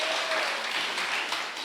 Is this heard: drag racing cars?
no